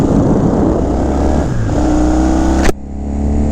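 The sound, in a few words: 1972 Yamaha XS2 650 twin motorcycle engine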